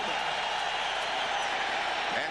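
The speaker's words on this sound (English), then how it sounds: "They make a lot of noise in Oakland." Steady, dense roar of a vocal stadium crowd at an Oakland Raiders home football game against the San Diego Chargers, a continuous broadband wash of voices with no distinct peaks.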